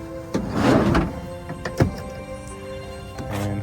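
Side sliding door on a 2022 Toyota Sienna Hybrid wheelchair van with an in-floor ramp, sliding shut with a loud rumbling thunk up close, followed by a sharper latch knock and a faint click.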